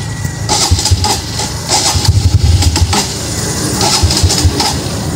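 A TVS Metro Plus motorcycle's carbureted engine fires up after running short of fuel, then settles into a loud, steady idle with rhythmic pulsing bursts, close to the microphone.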